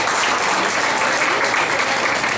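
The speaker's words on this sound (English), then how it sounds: "So y'all please give her a round of applause because this is her job." Dense, steady applause from an event audience, loud and continuous with no breaks, honouring the venue host.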